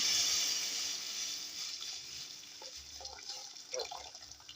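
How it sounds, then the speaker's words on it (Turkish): Boiled water is poured into a pot of Turkish restaurant-style chicken soup, a steady close rush and splash that gradually settles into softer gurgling and trickling over a few seconds. "kaynatmış olduğum suyumu ilave ediyorum"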